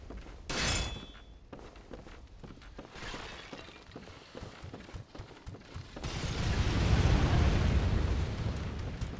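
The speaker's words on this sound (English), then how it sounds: "I would think that explosion should kill these guys" A video game explosion in Bloodborne bursts with a sharp crack and shattering debris, followed by rumbling, roaring noise that swells louder toward the end, with no voices.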